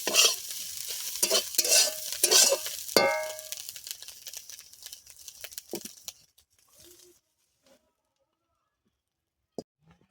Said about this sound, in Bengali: এবার মাছগুলো ভাজা হয়ে গেছে, নামিয়ে নিচ্ছি